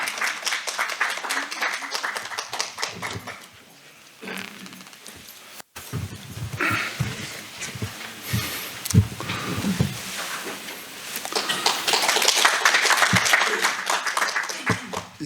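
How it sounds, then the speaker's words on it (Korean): Audience applause welcoming a veterans' association president onto the stage at a commemorative event for separated families, broad clapping that swells and fades over several seconds with some background voices and room noise. "우리 박수로 환영하겠습니다."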